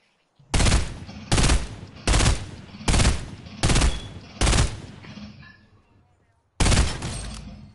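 Bursts of gunfire in the Fortnite video game, six loud broadband volleys in quick succession, then a pause and another burst, close and dominant.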